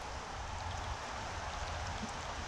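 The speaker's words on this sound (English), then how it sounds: "Man, it's raining" Rain falling around a creek, a soft, even, continuous hiss of drops heard faintly and steadily with no voices.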